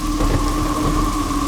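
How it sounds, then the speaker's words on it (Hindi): Loud, steady heavy rain with a low rumbling undertone of thunder, continuous and close, with faint tonal hums beneath it and no voices. "अरे रे, इतनी बारिश क्यों हो रही है?"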